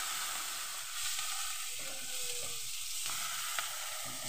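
Chopped spring onion stalks sizzle loudly alongside fish in a hot oiled pan, a dense continuous hiss close up with soft stirring scrapes underneath.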